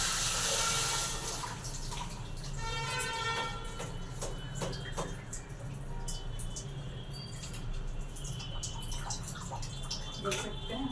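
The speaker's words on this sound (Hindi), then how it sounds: "अब इसको अच्छे तरह से पानी में धो लेंगे।" Soaked urad dal is washed by hand in water, with sloshing, swishing and gurgling as the lentils are rubbed and rinsed in a container, close and continuous, with occasional clinks.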